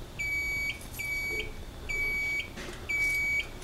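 A fire alarm panel emits a high-pitched electronic beep four times in a steady rhythm, each tone lasting about half a second, over a low background hum.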